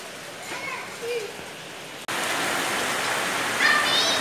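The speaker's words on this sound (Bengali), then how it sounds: "অঝোরে বৃষ্টি পড়েই যাচ্ছে, বৃষ্টিটা আরও বেড়ে গেল" Heavy rain pours down steadily at night, a dense continuous hiss that grows louder and fuller halfway through, with faint voices or bird chirps briefly audible beneath it.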